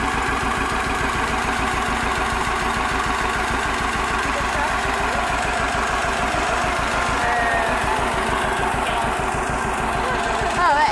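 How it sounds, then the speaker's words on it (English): A steady, low tractor engine idles close by on a farm at harvest, with a constant rumble and rhythmic chugging throughout, while voices occasionally murmur in the background. "it looks like our tractor rides here."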